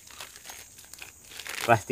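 Plastic sheeting handled outdoors in a forest, with soft scattered crinkles building to a louder crumpling burst near the end, faint overall.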